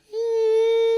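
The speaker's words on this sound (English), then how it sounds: "We get some feedback on the guitars here." A steady, ringing high tone swells in and holds without wavering, like electric guitar feedback sustaining on its own.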